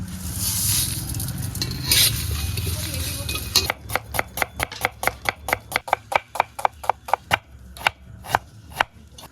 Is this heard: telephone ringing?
no